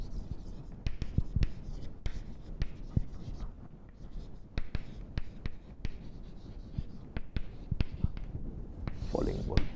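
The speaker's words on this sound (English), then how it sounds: "I will just write it here." A pen or chalk writes by hand on a board during a physics lecture, with irregular short taps and scratches spread across the stretch, fairly close and quiet, and a faint voice near the end.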